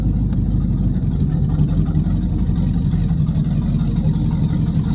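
A small-block V8 swapped into a 2006 GMC Envoy rumbles from inside the cabin on a test drive, a steady deep engine drone at moderate level.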